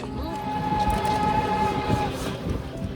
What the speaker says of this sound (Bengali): আর এদিকে দেখো আমরা ট্রেনে উঠে পড়েছি